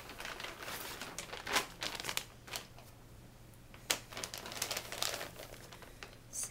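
A heavy-duty plastic bag crinkling and rustling in bursts of sharp crackles as bottles are packed into it, handled close by with irregular pauses between the louder crumples.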